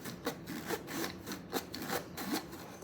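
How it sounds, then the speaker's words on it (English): Dry ginger snap cookie ingredients, flour with salt and baking soda, stirred together in a bowl. The sound is a run of close, rhythmic scraping strokes with no talking. "I'm just going to give this a good mix."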